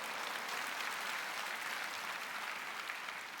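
A congregation at a church prayer gathering applauds in a steady, even wash of clapping, faint and somewhat distant, with no talk over it.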